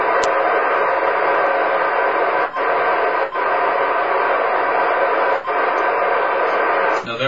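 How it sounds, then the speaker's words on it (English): Ham radio static during a contact with the International Space Station, a loud continuous hiss with brief dips and faint clicks, with no voices over it. "We hear a lot of static doing the ham radio thing"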